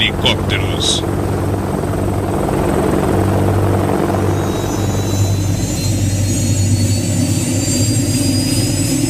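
A Westland Lynx helicopter roars steadily overhead, close and loud, its rotor chop and turbine whine continuous throughout with a faint voice beneath.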